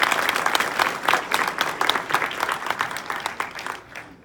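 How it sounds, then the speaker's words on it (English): A PAX South panel audience gives a round of applause, many hands clapping in a lively, fairly close burst that gradually tapers off. "So can we give her a round of applause?"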